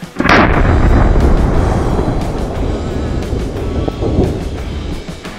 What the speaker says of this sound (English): I finally get to both drive and fire a tank